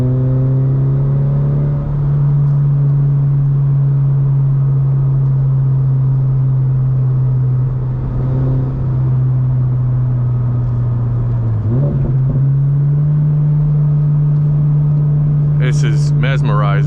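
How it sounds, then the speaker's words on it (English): A car engine idles loud and close with a steady low drone, swelling in brief revs around the middle and again near the end, with a voice briefly audible over it. "it's just getting behind this car and listening to the engine"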